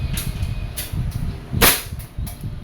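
DB M92 airsoft pistol firing over a chronograph, several sharp, dry cracks spaced under a second apart, close and crisp, with a louder snap in the middle and no talk.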